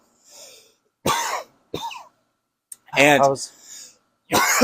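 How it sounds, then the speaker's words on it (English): A few sharp, close coughs and a throat clear in bursts separated by silence, with a short stretch of speech-like voicing in between. "sorry, I'm coughing."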